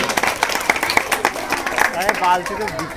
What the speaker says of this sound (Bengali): হাততালি, ছেলেরা হাততালি।